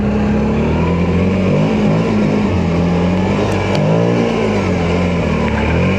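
A quad bike engine revving hard while driving through snow, a loud continuous roar with rising and falling pitch as the throttle changes, close and steady throughout.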